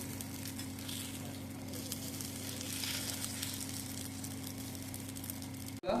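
A ladle omelette sizzles and fries steadily in a pan, a close, continuous hiss that holds level throughout with no talking, then cuts off abruptly at the end.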